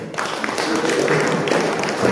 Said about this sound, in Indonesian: Tepuk tangan sebetul